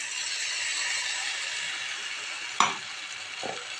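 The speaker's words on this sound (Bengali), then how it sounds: "এবার আমরা দিয়ে নেবো এখানে পেস্ট করে রাখা রসুন আর লঙ্কাটা," Garlic and green chili paste is added to onion and tomato frying in oil in a pan for a spicy fish dish. A steady, close sizzle is broken by one sharp utensil clank and a softer knock.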